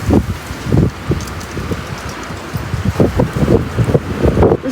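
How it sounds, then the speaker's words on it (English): Strong gusts of wind on a dry, windy afternoon buffet the microphone in loud, rumbling bursts that surge and fade repeatedly, with faint rustling in between. "That is definitely a strong wind gust there."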